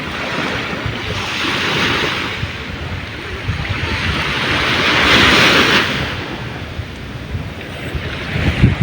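Steady surf wash and rolling sea waves reaching beach cottages, with wind buffeting the microphone, swelling louder midway, no voices.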